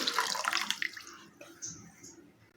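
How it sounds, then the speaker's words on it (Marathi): Water pours into a pot of rinsed, soaked rice for veg pulao, a bright splashing rush that fades into softer trickles and drips. "आता याच्यामध्ये भरपूर पाणी घालायचं आहे"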